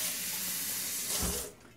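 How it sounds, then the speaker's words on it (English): Water running and splashing as the bottom of an empty glass kombucha jar gets a quick rinse, a steady close hiss with a brief slosh near the end before it cuts off. "and I give the bottom a little rinse."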